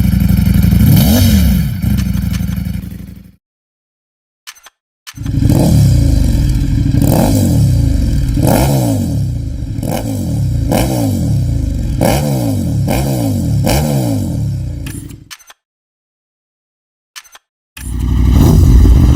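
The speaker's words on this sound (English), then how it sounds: "let's listen how these three hyper-naked bikes sound compared to each other" Three hyper-naked motorcycles, a Ducati Streetfighter V4S, KTM Super Duke 1390 R Evo and Aprilia Tuono, rev loudly and roar up through the gears in long bursts, with abrupt silent gaps where the recordings cut between bikes.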